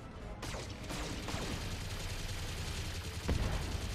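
Large and small mech lasers firing in Battletech, a dense stream of overlapping zapping bursts with sweeping tones and a heavier impact near the end, steady and loud throughout.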